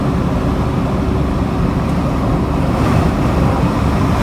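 Wind buffets a 1990 Mitsubishi Delica diesel 4WD van driving in stop-and-go traffic, a loud, steady broadband roar and rumble that holds for the whole stretch without a break.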